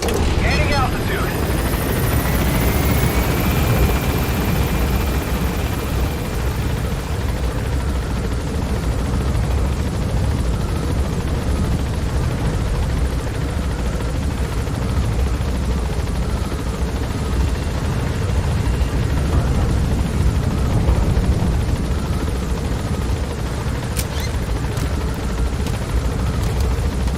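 Helicopter climbing in Metal Gear Solid V, a steady loud rotor and engine drone holding through the whole stretch with a rising whine early on; a voice talks faintly underneath.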